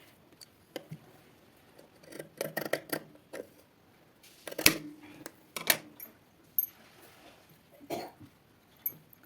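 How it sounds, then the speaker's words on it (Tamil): Scissors cutting through three stacked layers of cloth for tailoring, giving a string of sharp, close snips and crunchy cuts in uneven bursts with short pauses between. "நான் 3 துணியை ஒட்டுக்கா போட்டு கட் பண்ணுறேன்."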